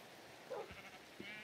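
Faint bleat of a pink sheep in Minecraft, a short nasal cry heard once, with a softer second call about half a second later, against quiet game ambience.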